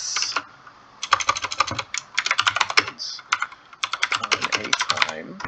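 Computer keyboard keys clatter in quick bursts of close, crisp typing, pausing briefly between runs of keystrokes.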